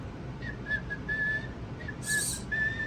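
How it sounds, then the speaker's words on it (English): An Eilik toy robot pet gives off short, thin electronic whistles in a broken tune, several quick notes followed by a brighter burst, fairly close and clear. "He's whistling."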